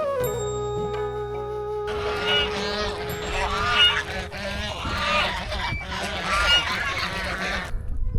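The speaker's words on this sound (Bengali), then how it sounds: "দেখুন রাজহাঁস এগুলো কিন্তু এই চরের মানুষজন পালন লালন করেন" A flock of domestic geese kept by villagers on a river char in rural Bangladesh, wading in floodwater, honks repeatedly in loud, overlapping calls that start after a quiet opening and carry on to the end.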